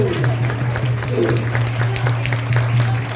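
An audience claps after a Janmashtami drama, scattered and moderately loud, over a steady low electrical hum that runs beneath the applause throughout.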